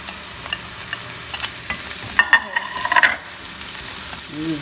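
Red pepper dropped into hot oil, a steady close sizzle with a burst of louder crackling and spatter midway, then settling back to frying.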